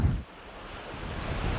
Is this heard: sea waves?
yes